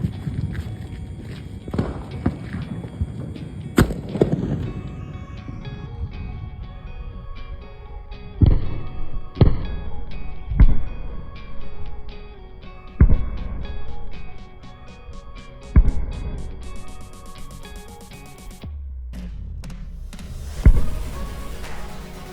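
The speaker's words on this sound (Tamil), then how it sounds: "இது 5 inch multi colour sky shot." A 5-inch multi-colour sky shot firework for Diwali fires a series of sharp bursts, about eight spaced cracks over a continuous crackling hiss, loud and fairly close.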